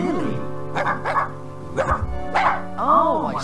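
A dog barks in Simon the Sorcerer, several loud, close yelping barks spaced irregularly over a few seconds, mixed with character voice lines in the game.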